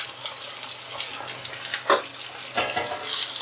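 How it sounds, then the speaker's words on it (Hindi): Tomatoes frying with onions in a pan, a steady soft sizzle with occasional stirring scrapes and clicks, close and moderately loud with no talk. "प्याज के साथ 2 मिनट टमाटर को भी फ्राई करेंगे हम।"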